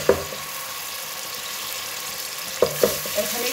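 Onion, garlic and spices are mixed in a frying pan, giving a short, even sizzle with a few quick scraping clicks from stirring near the start and end.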